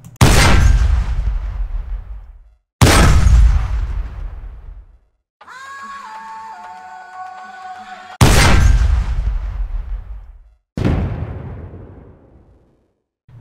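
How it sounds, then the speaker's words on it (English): Tank gun shots from the 50mm KwK cannon of a Panzer III in the game War Thunder, four loud booming blasts each trailing into a long decaying rumble, with a brief tonal mechanical whine between the second and third shots. "now we're going to hear the 50mm KWK"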